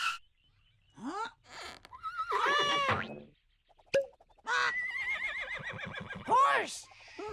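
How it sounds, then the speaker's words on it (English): A horse neighs and whinnies in a toddler's animal-sound learning segment, with bright rising and falling calls repeated across the clip amid brief spoken exclamations and playful sound effects. "Horse!"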